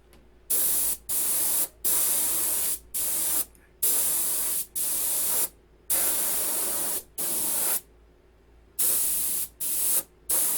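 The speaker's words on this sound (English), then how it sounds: "So what I do when I'm airbrushing something like this is I start with all the hidden areas, all the hard to get areas." An airbrush sprays green paint onto a P-51 model, sounding as a loud hissing spray in about a dozen short bursts of one second or less, separated by brief silent pauses.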